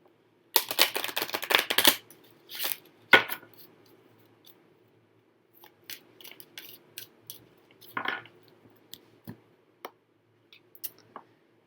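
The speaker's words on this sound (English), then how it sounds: "I'm going to start shuffling here." A burst of crisp riffling as cards are shuffled, followed by scattered taps, snaps and soft card handling in a quiet room.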